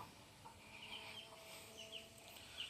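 A hen clucks softly on a farm, accompanied by three chicks, with faint scattered peeps and clucks sounding distant and quiet over a low background hum; no one speaks.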